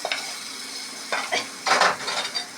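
Mustard seeds and urad dal, with curry leaves, splutter in hot oil in short, uneven crackling bursts, the spitting and popping rising and falling between brief quieter moments.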